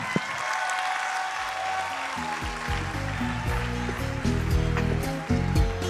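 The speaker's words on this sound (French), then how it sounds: "Est-ce qu'on peut applaudir très fort pour Gad Gadios" An audience at a comedy festival applauds loudly after a stand-up set, dense clapping joined by a sustained music chord underneath and a few cheers near the end.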